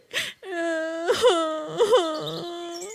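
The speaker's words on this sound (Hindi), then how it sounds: "वो छोटा बच्चा रोने लग जाता है" A cartoon baby cries in a Hindi animated story, a loud wailing voice rising and falling in several sobbing bursts over about three seconds, close and alone.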